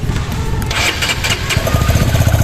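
A motorcycle engine cranks and catches, then settles into a close, throbbing idle with a steady low putter.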